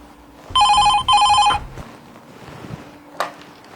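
A telephone rings indoors in two long electronic bursts, loud and close, followed by quieter room sounds and a brief knock-like click; no talking.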